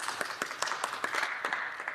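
Applause in the Canadian House of Commons, a steady patter of many hands clapping with a few sharper claps standing out, moderately loud and continuous throughout.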